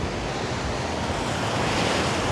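Ocean surf breaking on Seminyak beach in Bali under red-flag rough conditions, a steady, loud broadband wash of waves with some wind rumble, continuous throughout and free of voices.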